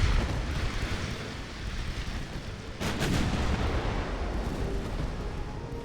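Warship main guns, 9-inch batteries on an 1890-era hull in Ultimate Admiral: Dreadnoughts, firing in a naval battle: a dense, continuous roar of booming salvos with one sharp blast standing out midway.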